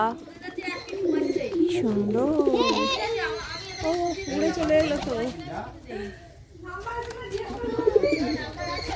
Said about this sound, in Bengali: এটা কি সুন্দর ময়ূর পায়রা